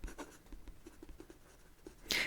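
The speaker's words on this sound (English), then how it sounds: "I'll write it down here." Soft, close scratching of a pen writing in a journal, quick irregular strokes in a hushed ASMR setting, ending in a brief louder rustle.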